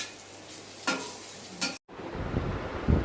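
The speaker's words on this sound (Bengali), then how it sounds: "আমি দেখেছি কম তেলে রান্না ছিটকে যায়" Food fries in very little oil in a pan, a continuous sizzle with spattering, two brief louder bursts of stirring, a momentary dropout, then louder crackling frying; no speech.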